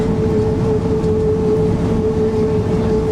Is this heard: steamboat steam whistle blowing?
no